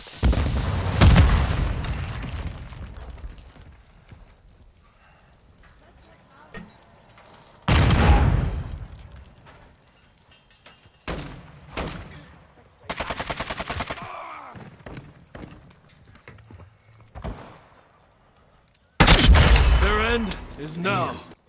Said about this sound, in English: Throwing grenade! Stun grenade out!